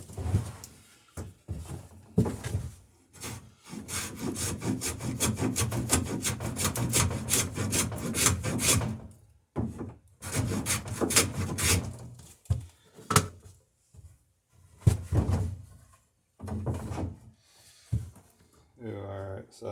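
Wooden boat stem being shaped to a bevel with a rasp or plane on wood, rhythmic rubbing strokes in bursts separated by pauses, close and fairly loud, with someone talking in between.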